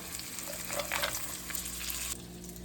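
Curry leaves sizzle and crackle steadily as they fry in hot oil in a pan, with a brief stirring clatter, the close, continuous hiss ending in a softer tail.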